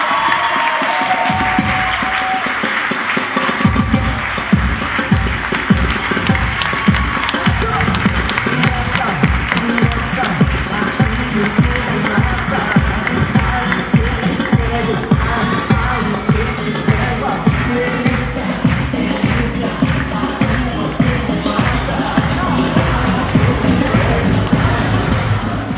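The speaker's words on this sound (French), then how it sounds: "Évidemment, on applaudit tous très fort l'équipe JLM" An audience applauds the finalist team at the JLM 2011-2012 final. After a few quieter seconds, loud sustained clapping breaks out and settles into a fast, rhythmic beat mixed with cheers.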